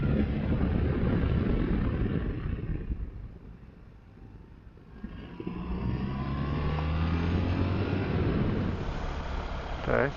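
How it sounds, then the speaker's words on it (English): A car drives along narrow village roads in the Pyrenees mountains, its steady engine rumble close and continuous, easing briefly before building again with a low droning note. "I've been driving through these really tiny roads here, through the city, or village"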